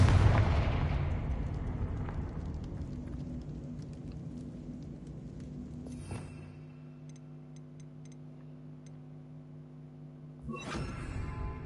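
A Confringo explosive spell blast in Hogwarts Legacy, opening with a loud booming burst that decays into a long rumbling tail, followed by quieter crackles and a second whooshing flare near the end, no talking.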